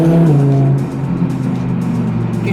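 A Lamborghini Huracán Performante engine roars loud and near in a steady, sustained drone that dips slightly in pitch partway through.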